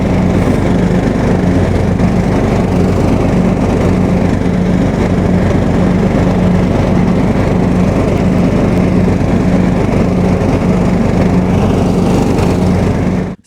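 A riding lawn mower driving on new Wiltire turf tires, its engine a loud, steady, close drone with a constant low hum that runs unbroken for over thirteen seconds before cutting off abruptly.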